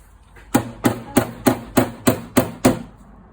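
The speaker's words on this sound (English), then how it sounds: "we'd just basically knock them in with a hammer before we put the final filler on" Eight sharp hammer knocks on car body panel dents land in a steady rhythm, close and loud, each ringing briefly before the next.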